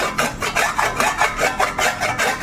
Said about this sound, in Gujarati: આ ખમણી વડે પણ છીણી શકો છો અથવા તો ચાકાથી કાપી શકો છો તો આપણે છળી નાખીએ